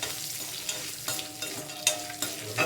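Chilies roast in a pan over a soft background sizzle, punctuated by repeated scraping stirs and spoon knocks every half second or so, close and fairly quiet.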